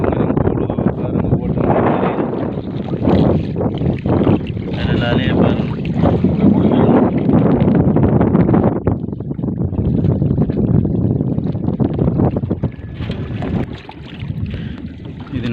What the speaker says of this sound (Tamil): இந்த காற்று கூடுது பாருங்க.